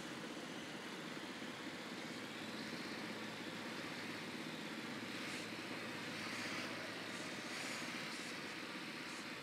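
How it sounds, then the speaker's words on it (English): A surveillance drone in the video game Ghost Recon Wildlands keeps up a steady, dense engine whir and rushing hum for the whole stretch, unbroken and moderately loud, with no talking. "Drone is airborne."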